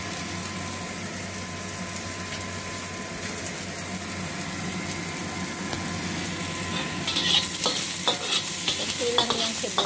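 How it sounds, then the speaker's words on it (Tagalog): Onions sautéing in a pan for a pig ears dish, a steady, continuous sizzle with the scrape of stirring that grows busier and brighter toward the end, with no talk. "gigisa lang daw natin ng sibuyas"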